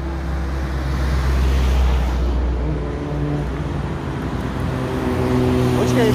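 Cars driving past on a road in Egypt, a steady loud roadway rumble with engine hum throughout the clip.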